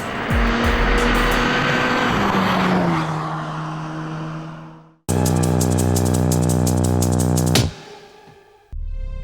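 A real car races hard around a real racetrack, engine roaring and tyres squealing, then a steady high-revving engine tone with rapid pulsing, a brief cut, and a final loud burst of engine noise up close.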